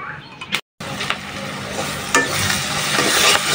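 Dry chilies roast and sizzle in a pan for a Bengali bhorta, with steady frying crackle and a few scraping stirs, briefly cut by a short gap of silence near the start.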